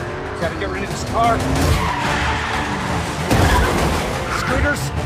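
A car skids through a Rome street chase in the film Mission Impossible: Dead Reckoning, with tires squealing in drawn-out wails over steady engine noise. Voices and a busy action mix run beneath it.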